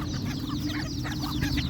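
Chickens cluck close by in a brief burst of overlapping calls over a low, steady background rumble.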